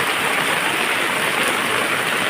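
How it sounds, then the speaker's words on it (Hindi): Heavy rain pours down in a constant, dense hiss, loud and close, a continuous downpour with no voices over it. "देखिए कितना तेज बारिश हो रहा है।"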